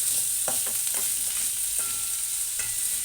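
Onions frying with salt in a pan give a steady, close sizzling hiss, with a few soft clinks of stirring scattered through.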